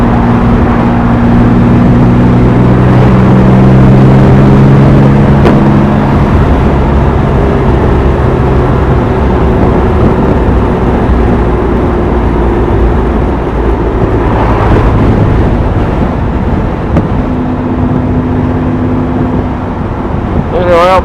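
A 1970 Jaguar XKE Roadster engine idling steadily, a continuous low rumbling drone with some wind buffeting on the microphone, loud and close throughout.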